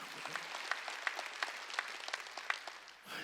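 Scattered clapping from a congregation at a Korean church's Wednesday worship service: fairly quiet and somewhat distant, with individual claps standing out against a soft background, before it fades at the end.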